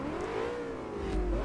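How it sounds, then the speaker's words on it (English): A BMW engine revs in Forza Motorsport 3, a steady mid-pitched drone with a rising, sweeping tone that swells louder near the end, heard alone without talk. "It's a good sounding engine."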